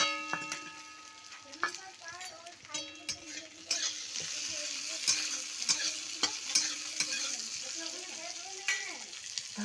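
Chopped onion and tomato fry for a mixed vegetable curry with a steady sizzle, while a spoon stirs and scrapes the pan in irregular clatters, close and fairly loud.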